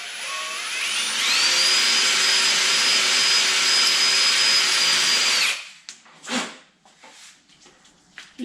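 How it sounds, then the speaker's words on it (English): Power drill boring through the pushrod pin hole of a pedal bracket on a 2012 Harley-Davidson VRSC frame rail, a loud steady whine for about five seconds, then stopping, followed by faint clicks and handling noises. "I can drill through the hole for the pushrod pin"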